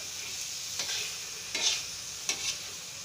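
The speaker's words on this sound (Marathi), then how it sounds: "छान मिक्स करून घ्यायचे" Egg masala frying on a tawa, with a continuous sizzle and three scraping strokes of a spatula stirring through it, close and clear.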